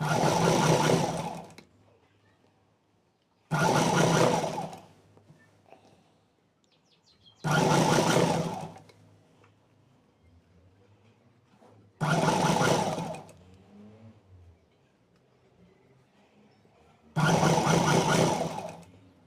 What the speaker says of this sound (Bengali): এভাবে সুন্দর করে চিকন করে সেলাই করে দেবো